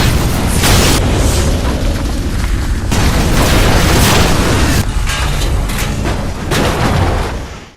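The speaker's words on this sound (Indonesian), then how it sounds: "si pembuat jam meledakkan bom yang telah dikirim tadi" A bomb explosion in a film, a loud, sustained roaring blast with rumbling debris and repeated bursts that fills the whole stretch before fading at the end.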